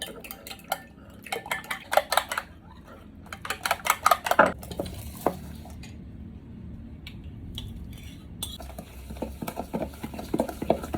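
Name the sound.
beating eggs with a spoon for cake batter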